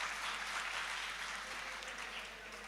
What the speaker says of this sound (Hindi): एक बार ज़ोरदार अपने लिए तालियां बजा लीजिए